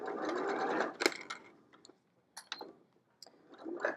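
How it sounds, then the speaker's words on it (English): A sewing machine stitches close to the edge of a mesh zipper pouch in short bursts of rapid mechanical clatter, the first run the longest, separated by pauses and small clicks, fairly close. "And then I'm just stitching close to the edge."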